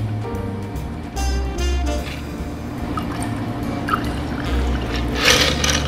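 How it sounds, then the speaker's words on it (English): A Sazerac cocktail, chilled with no ice, is strained into a rocks glass; liquid trickles and drips steadily at close range, with small clinks and splashes toward the end. "We're gonna strain into our rocks glass."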